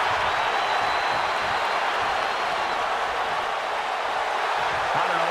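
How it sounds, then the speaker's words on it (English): A packed wrestling arena crowd at WrestleMania 38 makes a steady, raucous roar of cheering and applause that holds constant and fills the whole space. "What a raucous crowd here tonight."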